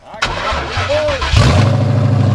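Coyote-swapped Ford Fox Body Mustang cranks over and fires on its first start, the starter whine giving way to a loud, rough, lumpy idle that fills the space, with people talking nearby.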